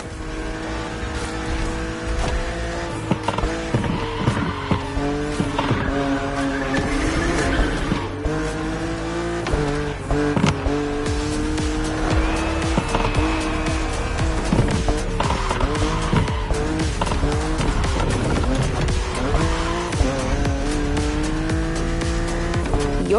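A BMW Z4 E89 coupe cabriolet drives with a steady, loud engine drone whose pitch rises and falls, with occasional tire squeal and skidding noise throughout.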